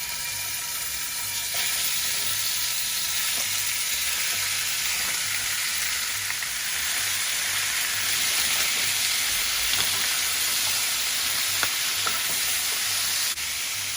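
Meat sizzles and fries in hot cooking oil in a pan with a continuous crackling hiss, close and steady throughout, with no voices.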